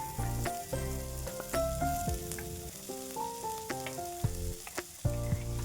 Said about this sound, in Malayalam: ഇനി ഇതിലേക്ക് നമ്മൾ ചെറുതായിട്ട് അരിഞ്ഞു വെച്ചിരുന്ന അമരയ്ക്ക ചേർത്ത് കൊടുക്കാം.